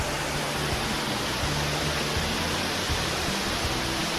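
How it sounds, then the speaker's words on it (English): A waterfall along the Bighorn Scenic Byway on Highway 14A in Wyoming roars as a dense, steady rush of water, loud and unbroken throughout with no voices. "Look at that beautiful waterfall."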